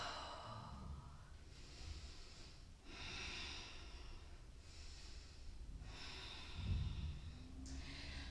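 Slow audible breaths out during a vinyasa yoga flow, several soft airy exhales at an unhurried, regular pace over a steady low background hum.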